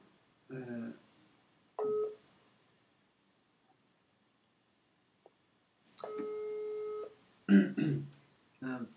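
A telephone call is placed, with short electronic dialing and ringing tones sounding clearly in separate bursts between stretches of silence, and people speaking around the tones.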